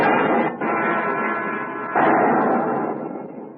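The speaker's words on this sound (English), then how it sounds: "Every time an explosion lifted the Malay trader up off the water" Heavy booming blasts from a ship's boilers exploding aboard a Malay trader, with deep rumbling tails, two big surges a second or so apart, rolling and reverberant.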